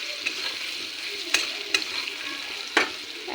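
Potatoes frying with cumin powder are stirred in the pan, a soft continuous sizzle broken by a few sharp scraping strokes of the spoon spaced unevenly.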